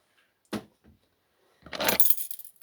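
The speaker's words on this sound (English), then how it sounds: "Keys." A bunch of keys jangles close by, first in a brief shake and then in a longer, brighter metallic rattle near the end, with near-silence between.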